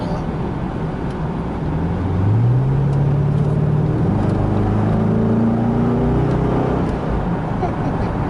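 A 2000 C5 Corvette V8 engine runs loudly and steadily, its deep rumble rising in pitch as it revs up and holds, heard from inside the car.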